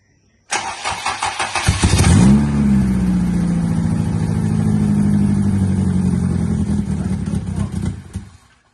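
A Honda Civic SI race car engine cranks, catches and roars to life, then holds a loud, steady revving idle close by with no talking.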